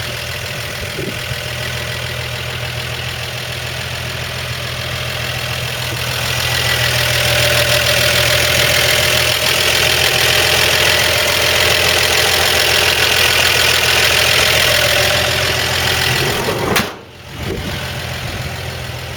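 A 1955 Chevy 3100 short-bed pickup, an old gas company truck, idling steadily with a low, even rumble that swells slightly midway, one brief dip near the end, no voices.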